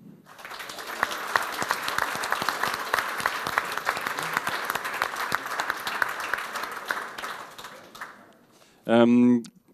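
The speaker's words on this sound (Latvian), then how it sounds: "Es teiktu, tad aplausu, lūdzu." Audience claps at a panel discussion on fostering change, a sustained round of many hands that tapers off near the end, followed by a brief spoken voice.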